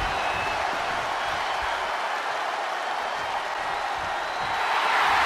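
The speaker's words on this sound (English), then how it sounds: "The sound of this crowd is deafening, and he's asking for more." A wrestling arena crowd roars steadily through a televised Universal Title match on Raw, a loud, dense wall of cheering that holds without a break and swells slightly at the end, with no voices standing out.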